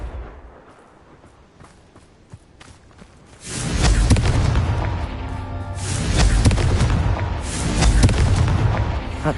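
A Confringo spell explosion in the video game Hogwarts Legacy: after a quiet stretch, a loud, sustained rumbling blast erupts and rolls on with booming swells, no voices over it.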